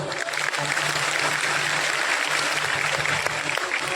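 An audience at a Gujarati religious katha celebrating Ram's birth bursts into loud, dense, sustained clapping that fills the whole stretch evenly, with no voice standing out.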